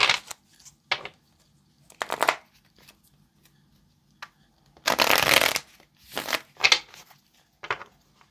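Tarot cards being shuffled by hand in several separate bursts of crisp riffling and flapping, one long loud burst near the middle and shorter ones around it, close up with no talking.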